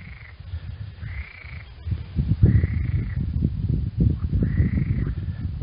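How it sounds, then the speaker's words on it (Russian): Frogs call in a repeated croaking chorus every second or so over a low, rumbling natural background near a riverside beach. "Лягушачьи концерты."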